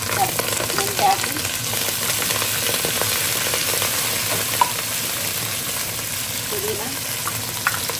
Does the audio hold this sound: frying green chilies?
yes